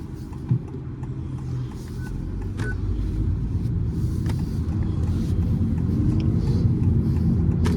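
A 2025 Honda Civic e:HEV hybrid car driving on a road, a low steady rumble of road and engine noise building gradually, heard from inside the cabin with a brief faint tone near the start.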